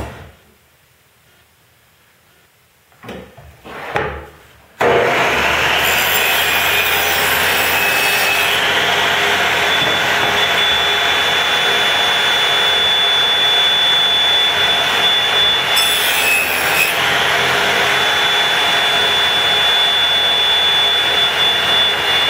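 A table saw blade cuts notches into a wooden division plate, a loud, close, sustained whine that starts after a few seconds of brief handling noise and runs steadily, with a slight surge partway through.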